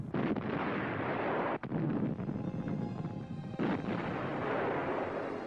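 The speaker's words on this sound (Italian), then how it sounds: "coperto dal tiro delle artiglierie e dei cannoni della milizia marittima di artiglieria" Artillery and cannon barrages from a maritime militia artillery unit during the WWII Bir el Gobi battle in the desert, a dense, continuous roar of booming blasts with sharper reports breaking through, loud and unbroken throughout.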